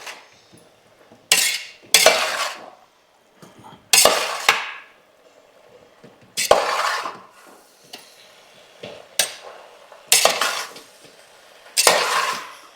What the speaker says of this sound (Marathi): आणि आता सगळी भाज्या पुन्हा परतून घेऊया